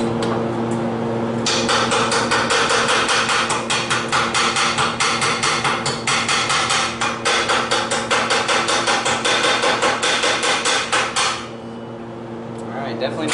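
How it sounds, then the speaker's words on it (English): A hammer knocks slag off freshly cut steel in a fast, steady run of sharp, ringing metallic strikes, loud and close, stopping near the end. "Bust off the slag and see what kind of damage we're doing."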